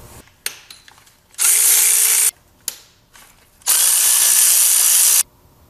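A 16 mm head bolt undone on a Jaguar F-Type AJ126 engine with a power tool: two loud sustained whirring bursts, each set off by sharp clicks and clanks, close up.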